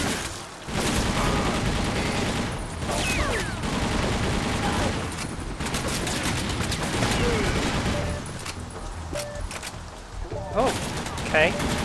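Carbine fire in the shooter TimeShift: repeated bursts of automatic rifle shots with loud crackling reports and occasional booms, with a voice talking over much of it.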